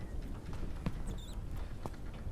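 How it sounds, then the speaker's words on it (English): Small rats scurrying and pattering in a horror video game, quick light scrabbling bursts over a low background rumble, fairly faint and close. "I hear rats."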